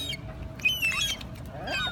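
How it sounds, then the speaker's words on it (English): Seabirds being hand-fed at Half Moon Bay, California let out a few sharp, high squawks and calls in short bursts over a low background murmur, near the listener with no clear talk. "And then the little birds started coming over here and joining in the fun."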